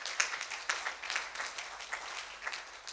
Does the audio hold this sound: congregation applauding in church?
yes